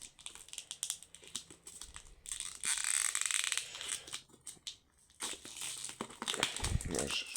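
A sealed Pokémon Team Rocket Elite Trainer Box being opened, with loud crinkling and crushing of plastic wrap, tearing and scraping in bursts with brief pauses, close up, with occasional speech.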